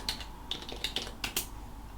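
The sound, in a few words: typing on a computer keyboard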